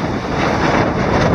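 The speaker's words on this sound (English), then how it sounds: "Very gusty conditions." Gusty wind roars steadily across the microphone aboard a racing yacht under sail, a dense, loud rush with a faint wash of water beneath and no voices.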